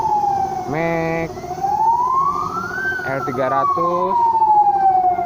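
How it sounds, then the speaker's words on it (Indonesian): An ambulance siren wails steadily as it passes a car service workshop, its tone rising and falling loudly while people talk over it. "Ada ambulan datang."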